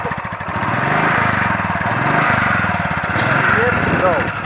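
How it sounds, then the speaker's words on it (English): A motorbike engine runs steadily on a mountain road near Auli, a loud continuous throb with rapid pulsing, heard close and accompanied by someone talking. "you can hear the sound of this bike"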